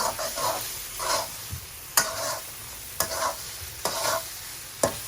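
Hilsa fish skin (khollā) frying and being stirred in a pan, Bangladeshi village style: steady close sizzle broken by sharp scraping stir strokes about once a second, with no talk.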